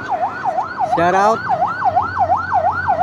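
An ambulance siren wails in a steady rising and falling cycle as it passes along a highway during a barangay May festival in Sugod, Lopez, Quezon; a brief shout cuts in near the start.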